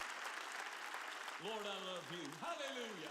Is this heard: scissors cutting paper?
no